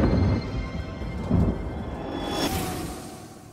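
A thunder sound effect in a children's story gives a couple of deep rumbling rolls followed by a crackling crash that fades out, heard alone.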